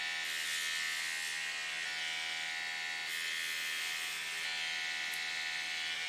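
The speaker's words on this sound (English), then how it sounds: "Okay, so next up, the electric toothbrush." A battery-powered electric toothbrush buzzes steadily while touched against the barrel of a pen, a continuous bright, close vibrating drone with no talking.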